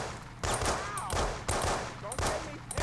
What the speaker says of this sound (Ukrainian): Готуємо полицейский кольт. Так, мы його перезарядили.